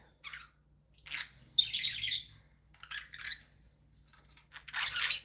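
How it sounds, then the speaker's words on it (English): Pet birds chirp and squawk in short bright bursts with quiet gaps between them, close and fairly faint, with no talking. "We're showing off the birds, Sharon."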